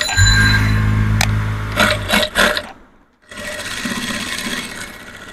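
A sewing machine runs in a steady loud whir while stitching a three-piece garment, pauses briefly, then resumes with a rattling, even hum.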